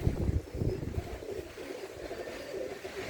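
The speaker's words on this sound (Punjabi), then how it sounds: "ਹਵਾ ਚੱਲਦੀ ਪਈ ਆ ਤੇਜ਼ ਥੋੜੀ ਜਹੀ" A fairly strong wind blows outdoors during light rain near a pigeon loft, a low, gusty rumble buffeting the microphone in uneven surges, with faint bird sounds underneath.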